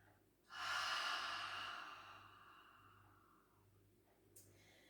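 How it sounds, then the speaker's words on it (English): A slow, relaxed open-mouth exhale during a yoga breathing practice, one long airy breath out that fades gradually, with a faint soft breath near the end over a quiet low hum. "the next two breaths with an open mouth exhale"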